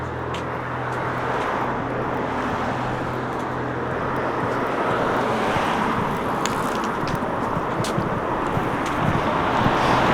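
Road traffic on Sheffield Road near Rotherham, a continuous broadband roar of passing cars heard close, mixed with wind buffeting the microphone, with no talk.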